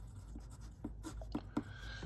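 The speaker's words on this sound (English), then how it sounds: "let's write down what's given" Pen or marker strokes while writing down given values for an Atwood machine pulley problem, a series of short, soft scratchy taps and squeaks close by, with no talking.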